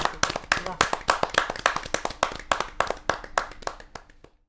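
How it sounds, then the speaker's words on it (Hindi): Audience members at an outdoor Hindi poetry gathering clap in sharp, distinct, fairly regular claps from a small group, close and crisp, tapering off after about four seconds. "जोरदार तालियों के साथ उसका स्वागत करिए"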